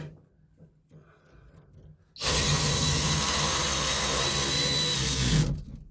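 An impact wrench loosens an exhaust manifold bolt, starting abruptly after quiet shuffling and running as a loud, dense, continuous rattling whir for about three seconds before cutting off, close by.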